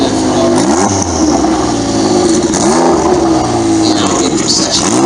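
A Ferrari supercar revving hard in a supercar parade, loud and close, with repeated rising and falling engine sweeps over a steady rumble of other cars in the procession.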